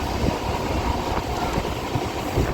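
A moving passenger train rumbles steadily, with a constant loud roar and rattle of wheels and carriages, heard from inside a nearly empty carriage.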